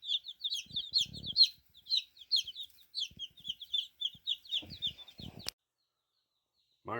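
Newly arrived hatchery baby chicks of two breeds cheeping, a dense flurry of high, rapid peeps close by, with soft handling rustles and bumps underneath before the sound cuts off abruptly.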